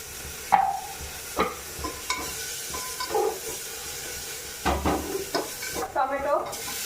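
Fish frying with a green chili, ginger and onion in a pan, with intermittent stirring clatter and faint sizzling, close and moderately quiet.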